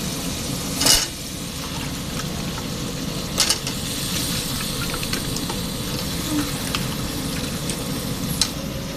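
Ash gourd pieces frying in oily, well-cooked spice paste for a hilsa fish curry, giving a steady close sizzle with a few sharp clinks and scrapes of stirring.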